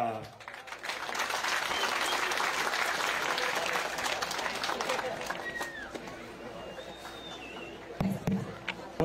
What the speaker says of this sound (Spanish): tengo el placer de invitarlos a recibir con un fuerte aplauso a Bernie Herrera.